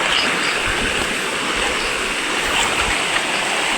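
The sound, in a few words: flowing stream water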